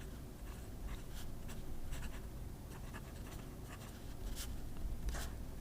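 A TWSBI Obsidian fountain pen with a wet broad nib writes on paper, making soft, close scratchy strokes in short bursts over a low background hum.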